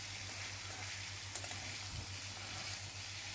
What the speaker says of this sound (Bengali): ভালো করে মশলাকে কষিয়ে নেব।